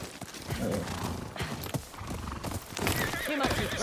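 A horse neighs and whinnies while hooves clip-clop, set against game-like background sounds in Ghost of Yōtei.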